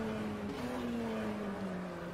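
Race car from a Brazilian classics series in the Automobilista racing game, lapping at Goiânia, drones with a steady, loud engine tone that slowly drops in pitch as it eases off.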